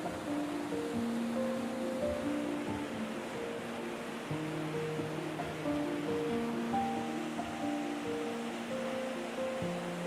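Rushing water of the Petrohué river tumbling over black volcanic rock cascades, a steady broadband roar with faint tonal sounds over it, no voices.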